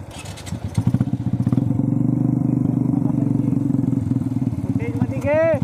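A Bajaj Pulsar NS125 motorcycle engine thrums loud and close with a steady rapid pulse as the morning ride sets off, engine note holding then shifting near the end, with a voice speaking over it.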